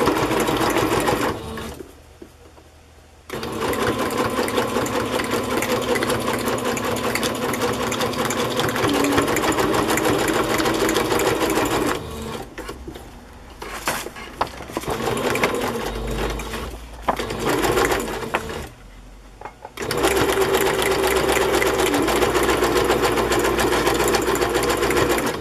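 Sewing machine zigzag stitching fabric onto a craft page, a steady loud mechanical whirring hum that runs in long stretches broken by a few short pauses and restarts.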